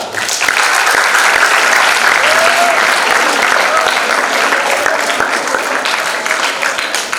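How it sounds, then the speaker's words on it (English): An audience at a literature festival session gives a sustained round of applause, a dense, even roar of many hands clapping that holds steady for several seconds before easing slightly. "One round of applause for her."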